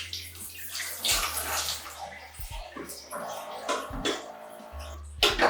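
Water being poured out of a film developing tank during darkroom processing, with splashing and gurgling pours in uneven bursts close by, including a louder gush near the end.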